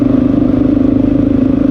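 Close and loud, the Honda XR650L thumper with its Lexx aftermarket exhaust runs at a steady idle, a rapid, even chugging pulse with no voices over it.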